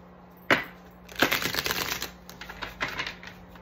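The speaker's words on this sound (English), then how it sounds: "All right, one more shuffle." Tarot cards being shuffled by hand, a single snap followed by a quick fluttering riffle and a few lighter flicks, close and quiet with no talk.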